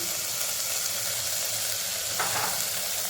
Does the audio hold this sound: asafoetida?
yes